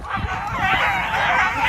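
Several dogs yip and bark in a steady, busy chorus that runs through the whole moment, with a faint voice beneath them.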